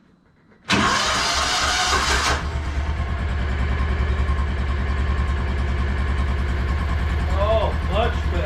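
A 2016 Kawasaki Mule 610 utility vehicle, freshly valve-adjusted, cranks with a loud starter whir and then fires up, settling into a steady, close, throbbing idle in neutral while a voice speaks briefly near the end.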